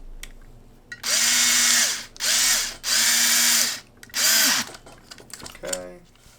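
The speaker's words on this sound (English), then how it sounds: "Use the drill for this." A power drill drives screws into RC drift chassis parts, a Scale Reflex Hydra chassis for a Rhino Racing Shark. Four loud, close whirring bursts of about a second each are followed by light clicks and handling noise.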